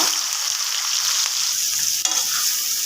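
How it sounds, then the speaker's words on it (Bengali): Onions and dried red chilies frying in hot oil, a strong bright continuous sizzle with occasional stirring scrapes and taps, close and loud without talk. "শুকনো মরিচটা একটু নেড়ে চেড়ে ভেজে নিব মরিচটা ভাজা হয়ে গেছে এখন আমি পেঁয়াজগুলো দিয়ে দেব"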